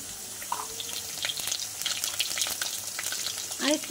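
Cumin and ginger paste dropped into a pan of frying oil after potatoes, a quiet crackling sizzle with scattered pops and light clinks of a utensil, no speech.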